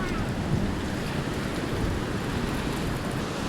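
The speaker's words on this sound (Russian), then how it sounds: "Смотри, там этот водопад внизу. Видишь? Вода течет." Steady rushing water of a waterfall flowing far below, heard from a metal walkway in a nature reserve near Lake Como, Italy, as a broad continuous wash mixed with wind buffeting, no talk.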